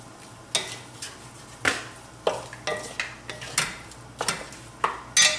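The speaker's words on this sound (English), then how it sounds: "So you just keep on mixing in the tofu with the spices and add turmeric to taste." Tofu scramble with turmeric and spices being stirred in a pan over medium heat, with repeated scraping and clinking strokes of a utensil against the pan in an uneven rhythm, close and fairly clear, no talking.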